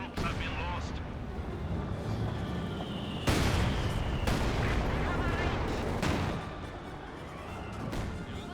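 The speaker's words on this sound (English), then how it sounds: "Handsworth barrage running on in, close range barrage." A close-range artillery barrage in Company of Heroes, with heavy shells hitting in loud successive blasts, each one followed by a rumbling decay, while a commentator talks over the bombardment.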